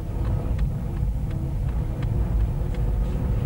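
A learner's car creeps forward on light throttle, a steady low engine rumble close and continuous throughout, with faint regular ticking above it.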